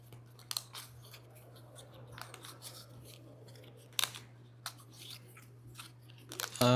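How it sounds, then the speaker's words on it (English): Cards from the Tin Realm board game being shuffled by hand, a few soft, sharp riffling and snapping bursts spread over several seconds against a steady low electrical hum, fairly close and quiet, with no voices. "So I'll shuffle these up and pray that it is a..."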